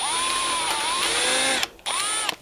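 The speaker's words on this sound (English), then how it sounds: "Angle your drill if you got to get you a straight starting hole." A power drill bores into the metal core of a broken engine oil dipstick, a steady high whine with sliding pitch as the bit grabs, cutting out briefly before spinning up again for a short burst.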